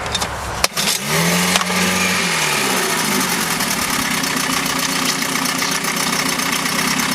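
A 1971 Mercury 7.5 outboard motor starts with a sharp knock and then runs at a steady, loud, buzzing idle close by.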